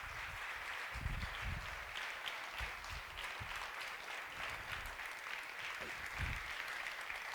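An audience at a storytelling festival claps warmly to welcome a storyteller, a full, even round of applause with a few heavier low thumps scattered through it.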